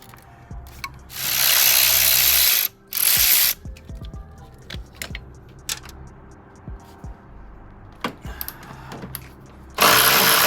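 A ratchet works a T30 bolt out of an engine bracket on a BMW N55, with close metallic clicks and clatter, broken by long loud hissing bursts of spray.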